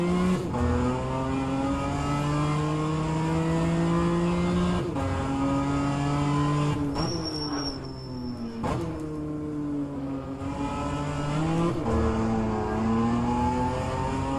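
Race car engine in the rFactor 2 sim racing game droning at steady revs, with a few shift dips where it bogs down on an early upshift, continuous and close with no talk.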